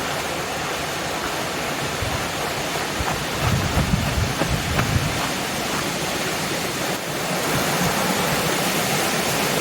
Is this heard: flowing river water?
yes